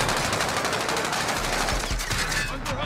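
Automatic gunfire in the battle royale game Call of Duty Warzone, Season 5 Rebirth, with dense, continuous rattling bursts and a few heavier thumps, loud and close throughout.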